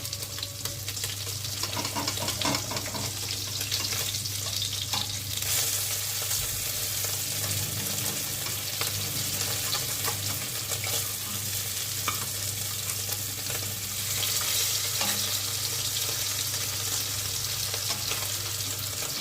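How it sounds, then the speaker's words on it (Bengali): Tangra fish frying in hot oil in a kadai, turned over to cook the other side, giving a steady, loud sizzle with a constant low hum underneath and no voices. "এবার উল্টে দিচ্ছি অন্য সাইডটা ভেজে নেওয়ার জন্য"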